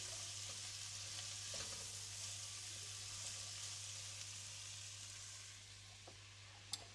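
Garlic frying in a pan for a Hungarian paprika beef goulash, giving a steady, even sizzle throughout with a few faint stirring scrapes and clicks.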